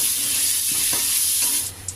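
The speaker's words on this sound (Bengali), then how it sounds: "এই তেলেই আমি আলুগুলো ভেজে নেব।" Cut potatoes fry in hot oil with a little salt and turmeric powder, a steady close sizzle with a few stirring scrapes, quietening briefly near the end.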